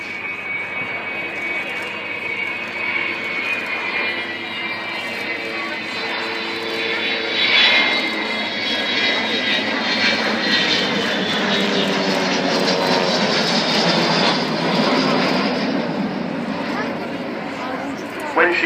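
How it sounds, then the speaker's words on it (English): An Avro Vulcan XH558 bomber passes at an airshow, its jet engines a loud, sustained roar and rising whine that swells as the power opens up, under continuous commentary from an announcer. "You just get a little suspicion of Vulcan's engine slightly opening up each time"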